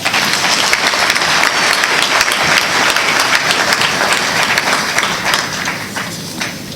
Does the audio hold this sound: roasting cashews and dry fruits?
no